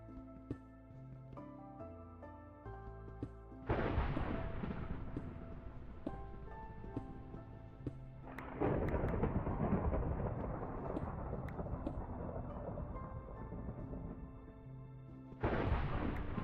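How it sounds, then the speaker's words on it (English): Thunder in the Minecraft video game: three heavy, loud rumbling thunder strikes that arrive abruptly and boom on for several seconds each, over a gentle in-game music melody. "that thunder is striking like mad"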